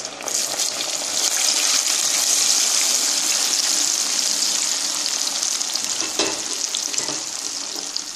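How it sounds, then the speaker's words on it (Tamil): Garlic and deseeded amla gooseberries frying in hot sesame oil for gooseberry pickle, a loud, dense, continuous sizzle close up, with a brief stirring scrape late on. "நல்லா சூடாக இருக்கு போட்டால் அப்படியே பொரிஞ்சிடும் இந்த நெல்லிக்காவும் இதிலே போட்டுடலாம்"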